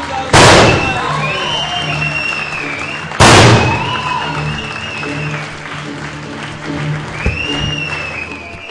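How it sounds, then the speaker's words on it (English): An audience claps at a school event, a sustained spatter of applause punctuated by two sharp thumps and some voices mixed in. "Big round of applause for them."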